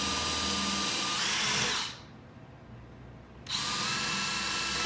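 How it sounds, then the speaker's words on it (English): A power drill with a countersink bit whirs loudly into wood for an Adirondack chair, cuts out for about a second and a half, then whirs again at full speed. "Drill with my countersink bowl or"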